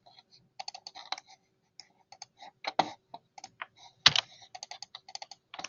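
Computer keyboard keys and mouse buttons click in short, irregular bursts of sharp, light taps, close and quiet, with gaps of silence between them and no voices.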